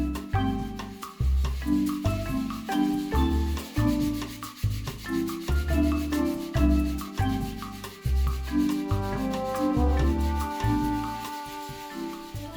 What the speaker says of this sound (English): take a sheet of sandpaper and rough up the